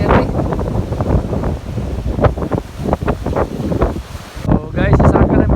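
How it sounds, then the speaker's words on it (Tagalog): Strong wind at the seaside in Sanary, France, loud gusty buffeting roaring across the microphone throughout, with people speaking under the noise. "Ang hangin guys."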